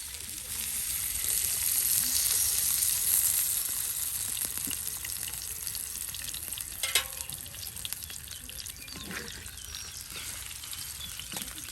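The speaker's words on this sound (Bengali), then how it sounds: "এই যে আপনার মরিচ পেঁয়াজ কুচি সব একসাথে এখন ভেজে নেওয়া হবে" Chopped chillies and onions frying together in oil give a soft, continuous sizzle with crackling spits, and a few sharper stirring scrapes come partway through.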